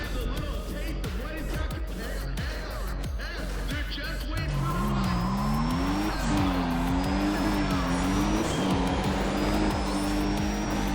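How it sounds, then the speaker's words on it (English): A Toyota Supra runs a half-mile drag race in Need for Speed ProStreet. The engine roars steadily, rising and falling through gear shifts, with tire noise and a whining pitch that climbs near the end. "Let's just do a half mile on the Supra, see how it does."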